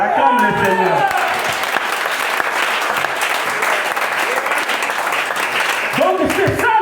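A church congregation bursts into loud, sustained applause during a service, a dense close crackle of many clapping hands that continues for several seconds while a voice calls out over it.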